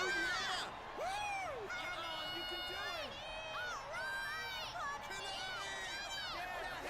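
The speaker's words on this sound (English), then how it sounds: "But they're cheering for Kaname-san." A crowd cheers and whoops in the rhythm game Persona 4 Dancing All Night, with many high excited voices and music swirling together continuously under nearby speech.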